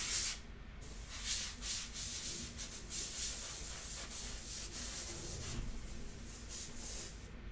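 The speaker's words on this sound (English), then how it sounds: "Now I'm just gonna dry it with the airbrush." Airbrush blowing air to dry wet paper painted with India ink: a continuous close airy hiss with rapid rubbing, sanding-like fluctuations throughout, with no talking.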